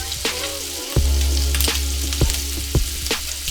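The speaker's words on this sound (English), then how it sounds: "So now we're flipping our shrimp." Shrimp and garlic sizzle and fry steadily in a hot pan, with a few sharp clinks and scrapes as the shrimp are flipped over, loud and close with no talking.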